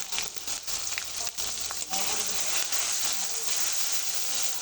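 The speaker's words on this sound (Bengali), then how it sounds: "মশলাটা আমি ভালো করে ভেজে নেব।" Spice paste of mustard, turmeric and salt sizzles and crackles steadily in a hot pan, with occasional stirring scrapes, close and continuous.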